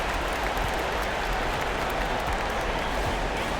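A home crowd applauds in a steady, dense wash of clapping and cheering at a FIBA World Cup basketball game between Sweden and Nigeria, holding an even loudness throughout.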